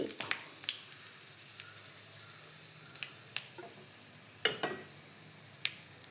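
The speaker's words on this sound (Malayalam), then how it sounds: "കടുക് പൊട്ടി." Mustard seeds crackling in hot coconut oil while tempering jackfruit seed upperi: scattered sharp pops, some close and loud, over a soft steady sizzle.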